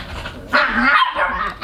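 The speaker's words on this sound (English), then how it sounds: "I apologize for the squeaking and barking that is sure to commence" Small pet dogs bark and yip in a quick, loud flurry close by, several sharp overlapping barks with brief squeaky whimpers between them, no talking.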